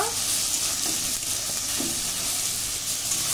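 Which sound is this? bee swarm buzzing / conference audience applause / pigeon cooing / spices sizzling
spices sizzling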